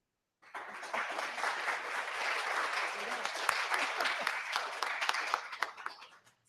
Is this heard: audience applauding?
yes